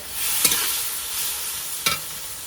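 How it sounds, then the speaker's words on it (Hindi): Dal being tempered with a tadka, a steady frying sizzle with stirring scrapes throughout and two sharp metallic clinks of the spoon against the pot, with no talking. "ये दाल में तड़का लगा रहे हैं महाराज जी।"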